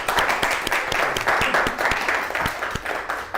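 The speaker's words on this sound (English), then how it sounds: "So again, another round of applause." Audience applause at a university lecture in a TTS course series, steady dense clapping with sharp individual claps standing out, close and loud throughout, with no one talking.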